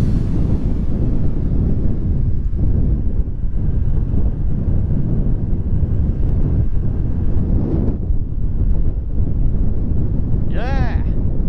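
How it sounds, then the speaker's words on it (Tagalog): Strong wind roars steadily into the microphone on a zigzag mountain road, a loud, constant rumble that masks almost everything else, with a brief chirping sound near the end. "Ang lakas ng hangin."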